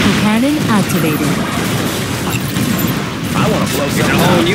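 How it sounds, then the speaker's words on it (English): Dense Command & Conquer Generals Zero Hour battle noise with rapid booming particle cannon blasts and crackling weapon fire, a synthetic voice speaking briefly over the chaos. "Particle cannon activated."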